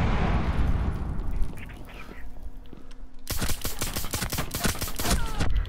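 Rapid bursts of video game gunfire in Tom Clancy's Rainbow Six Siege crackle in quick succession after a quieter stretch of rumbling ambience, loud and sharp like a firefight.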